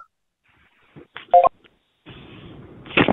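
Telephone keypad dialing tones from a played-back sales call recording: a few short DTMF beeps with gaps, followed by a burst of line noise and a louder tone cluster at the end.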